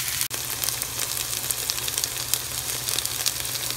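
Sliced tindora (ivy gourd) pieces hiss and sizzle steadily in a hot pan, a dense close crackle with a brief clatter near the start as they go in.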